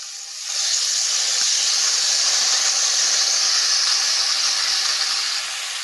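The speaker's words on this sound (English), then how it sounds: "we will take our washed lentils and rice, and we would add it to the oil mixture" Washed lentils and rice drop into hot oil for kitcheree, setting off a loud, steady sizzling hiss that starts abruptly and holds evenly for several seconds before easing slightly at the end.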